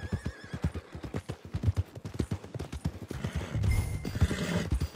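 Horse hooves clip-clop in a quick, uneven rhythm and a horse whinnies in the video game Red Dead Redemption 2, close and fairly loud, with a busier rumbling stretch toward the end.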